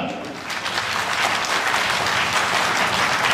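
A large audience at a public religious gathering in Siddipet claps, producing dense, sustained applause that swells slightly and holds steady, with a voice faintly audible beneath it.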